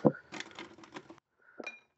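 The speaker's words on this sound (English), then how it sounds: "We'll just do one little regular ice cube here." A single small regular ice cube drops into a glass of barrel-aged gin, giving a sharp clink followed by a brief rattle and settling, then a second lighter clink after a short pause; close and clear, with no talking.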